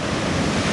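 Ocean surf breaking at Anglet beach under a light west-northwest wind, about 1.5 m waves, a continuous loud broadband roar of crashing water with wind noise and no pauses.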